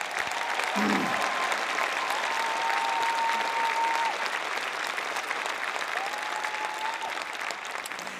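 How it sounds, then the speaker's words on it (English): A large crowd at a spring university convocation gives the graduating class of 2022 sustained, loud, dense applause that holds steady throughout, with a faint tone sounding briefly over it. "Would you give them a big round of applause?"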